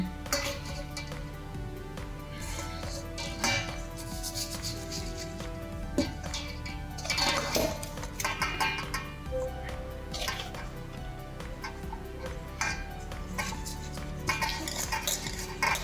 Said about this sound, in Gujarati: એ હવાલામાં આપણે લોટને ચાળી લેવાનો છે